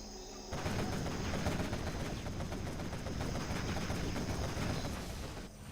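Rapid sustained cannon fire from a quad cannon in the real-time strategy game Command & Conquer Generals Zero Hour, dense continuous bursts that run loud for several seconds with no talk over them.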